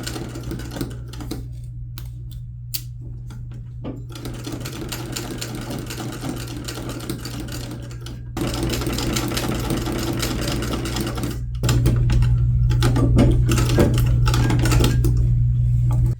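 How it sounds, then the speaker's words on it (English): A sewing machine stitches the collar of a Regency-style jacket in a steady, continuous whir with a low motor hum, speeding up and growing louder partway through and again near the end, close and alone with no talk. "Now once you've pinned this all around, you can sew it and then we can attach it to the jacket."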